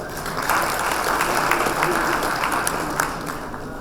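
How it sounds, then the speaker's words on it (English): A conference audience at an opening ceremony claps steadily throughout, a dense even patter of applause with a few sharper claps standing out. "I think we deserve an applause for that."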